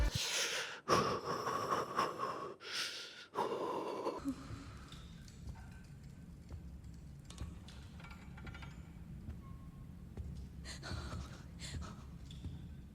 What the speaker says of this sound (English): the way she's breathing, it's scary